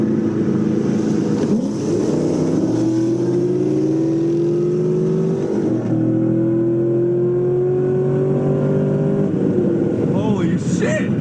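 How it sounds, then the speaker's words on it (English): A Dodge Hellcat and a Ford Mustang street racing, their engines droning and revving in long rising pulls, loud and steady throughout, with voices heard over the engine noise. "Or even like It's Just a Sick street racing a Hellcat and his Mustang."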